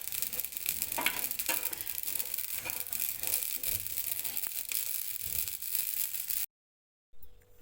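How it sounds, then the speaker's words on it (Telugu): Mustard seeds splutter and crackle in hot oil in a pan, a dense run of sharp pops and sizzling for several seconds before dropping to silence, then a brief return. "ఆవాలు చిటపట అంటున్నాయి,"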